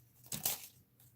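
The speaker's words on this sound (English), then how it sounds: "again, I'm using the scissors, but" Scissors snipping through wired artificial flower stems and rose leaves, a short crunchy cut with a brief crackle, close and fairly quiet, with no voices.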